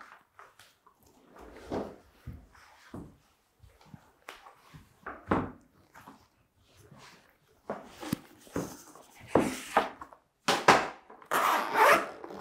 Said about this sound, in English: Oh, that zips yes.